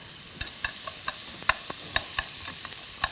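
Vegetables are stir-fried in a deep bowl with a pinch of salt, a soft sizzle broken by regular sharp clicks and scrapes of a utensil against the bowl, close and clear with no talking.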